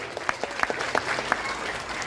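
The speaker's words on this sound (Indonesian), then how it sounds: "Tepuk tangan dulu" Applause from an audience at a political gathering, a short burst of steady clapping from many hands, fairly loud and close, without talk over it.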